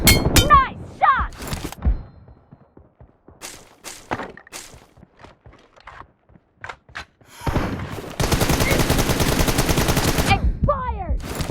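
Gunfire in an online shooter video game, sharp single shots scattered through the first half, then a sustained loud burst of rapid automatic fire lasting several seconds, with bits of in-game voice lines at the start and end.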